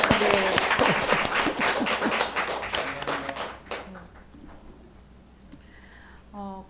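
Church congregation applauding during a Sunday Eucharist service, celebrating an exhibition; brisk, fairly close clapping that fades out after a few seconds, with a voice speaking briefly at the end.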